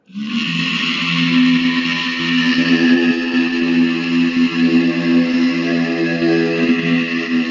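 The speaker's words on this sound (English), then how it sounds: "I actually also took these vocals and pitched them down a whole octave." A deep, dark vocal line pitched far down, sustained and droning with heavy effects and a ghostly, reverberant tone.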